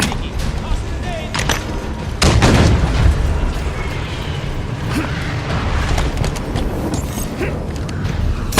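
A grenade goes off in the video game Halo 5: one deep boom early in the clip, followed by rumbling game noise and scattered mechanical clatter at steady loudness.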